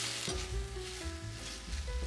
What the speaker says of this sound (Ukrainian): підсмажую на невеликій кількості олії до карамельності